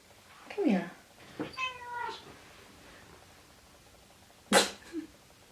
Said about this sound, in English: That was such a sweet little meow.